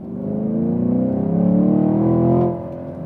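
A 2020 Chevrolet Camaro SS with a 6.2-litre V8 and optional performance exhaust revs with a deep, steady, rumbling roar that builds slightly, then drops off abruptly as the throttle is released, close and loud with no talking.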